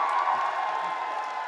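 Audience clapping and cheering at a Hindi kavi sammelan comedy poetry event, a steady dense wash of applause and crowd noise that fills the whole short stretch without any speech.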